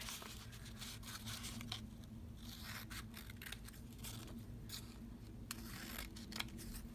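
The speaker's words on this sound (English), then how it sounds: "So we'll trim some of these to make them approximately the right size to fit on there." Scissors snip repeatedly through paper craft embellishment pieces for fall forest paper clips, a quick irregular series of close, crisp cuts with light paper rustling between them and no voices.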